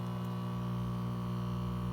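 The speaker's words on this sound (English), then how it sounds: "connect the vacuum pump tube to the outlet reservoir of your device and turn on the pump." A vacuum pump runs with a steady, continuous electrical hum and faint hiss, unchanging and alone throughout.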